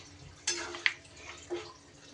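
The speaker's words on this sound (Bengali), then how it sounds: "আমি কিন্তু ঠান্ডা জলই দিলাম আপনারা চাইলে এখানে গরম জলও ব্যবহার করতে পারেন" Cold water poured into a pan of jackfruit and potatoes cooking, a couple of short splashing gushes and a small clink, close up and fairly quiet, no talking.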